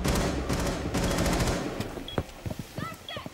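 Rapid automatic gunfire in a first-person shooter video game rattles in dense bursts for about a second and a half, then trails into scattered sharp shots and clicks.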